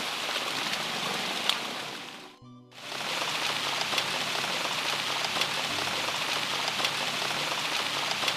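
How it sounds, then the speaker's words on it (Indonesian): Steady rain pours down in a rural Sundanese village in Indonesia, a dense, even hiss of drops on surfaces throughout, briefly dipping near the start before resuming at full strength. "ini turun hujan"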